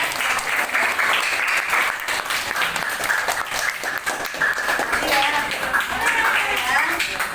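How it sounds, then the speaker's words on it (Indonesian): Classroom applause from a group of students, steady broadband clapping that fills the whole stretch at close range, with voices mixed in underneath. "tepuk tangan untuk kalian semuanya"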